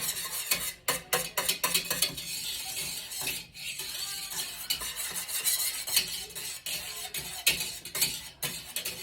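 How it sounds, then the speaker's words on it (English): A thickening lemon curd made with fresh eggs is whisked in a bowl. Rapid, uneven metallic clinks and scrapes repeat close up, with no voices. "this is getting so hard to whisk now. It's getting very thick."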